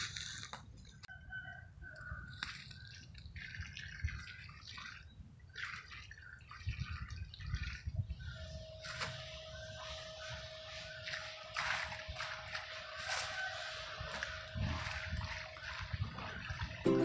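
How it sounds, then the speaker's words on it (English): Water is poured into a fence post hole already filled with concrete on a farm, giving a long, low splashing and trickling close by with scattered drips, plus faint background rustling and a steady hum. "Now we're going to get some water in."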